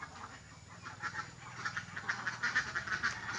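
Hungry domestic ducks call from close by in a quick run of nasal quacks and honks that grow busier and louder toward the end, with no voices over them.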